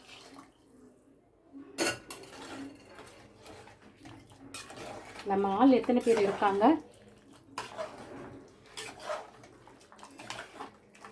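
Heated water poured into a cooking pot of mutton soup with sautéed ingredients, a short splashing pour in the middle, surrounded by light pot clatter and a person talking.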